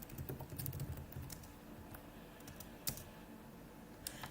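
Typing on a computer keyboard, with soft, irregular clicks of keys close by and a few sharper taps standing out, against low background hum while coding in C#.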